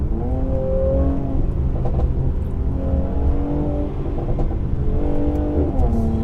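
A 400bhp 2019 Mercedes C43 AMG in Sport Plus manual mode downshifts into second gear, its engine rising and falling in strong revs, with a few sharp exhaust pops scattered through the pulls.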